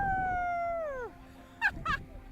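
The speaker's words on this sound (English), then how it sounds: "this week we're meeting the Canadian Eskimo dog." A Canadian Eskimo dog gives a long, clear howl that slides downward and fades, followed by two short yips close by.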